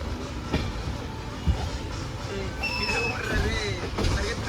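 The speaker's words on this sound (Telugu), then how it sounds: "ఎంతో అందమైన అరకు వ్యాలీ ట్రైన్ జర్నీ అయితే స్టార్ట్ అయిపోయింది" The Kirandul train on the Araku Valley journey, a low rolling rumble with a couple of sharp knocks and brief high squealing tones near the end, heard under voices talking nearby.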